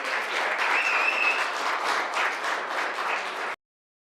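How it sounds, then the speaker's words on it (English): An indoor crowd at a junior hockey player draft gives the teams sustained, dense applause, loud and even throughout before cutting off abruptly. "can we give each franchise a massive round of applause"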